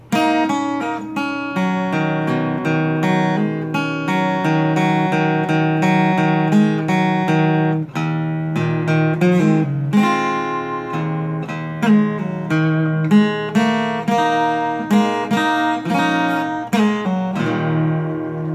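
Acoustic guitar playing the solo from a song, a dense run of quick plucked notes over ringing strings, loud and close with no voice.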